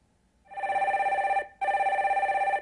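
A telephone rings as a call is put through on a live call-in stock advice broadcast: two loud, clear electronic trills separated by a brief pause, with no talk over them.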